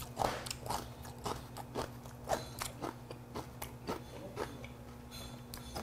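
Crisp, crunchy domestic kimchi chewed at a restaurant in Yeongam Samho, a close run of sharp crunching bites in a steady rhythm with no talk over it.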